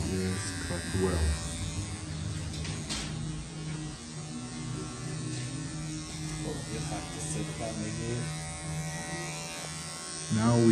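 Electric hair clippers fitted with a 6 mm guard buzz steadily with a humming drone as they cut hair, while someone talks over the sound.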